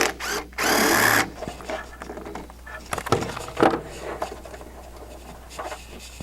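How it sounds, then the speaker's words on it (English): A power tool drives off the nut on the upper shock of a Mustang, with a loud close whirring burst near the start, then clanks, rattles and handling noises in a garage. "we're going to take out the nut holding the upper shock in."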